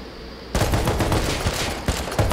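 Gunfire in the survival game Rust, shooting at bots, erupts suddenly after a quieter lead-in and becomes a dense, loud stream of rapid shots with a few stronger cracks standing out.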